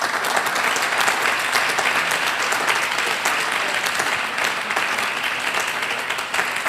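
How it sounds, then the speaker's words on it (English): An audience in a church-setting lecture on financial and human resource management claps for a speaker: loud, sustained, even applause filling the whole stretch without pause. "I think she deserves a better applause than that."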